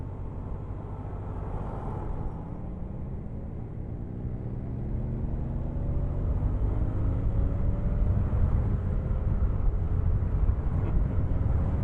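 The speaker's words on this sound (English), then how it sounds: "Must be some kind of tractor event, because they all have on the same jackets, and there's a lot of them." Old restored tractors roll past at a tractor run in Newmarket, a continuous low engine drone that grows gradually louder and nearer, with wind buffeting the microphone.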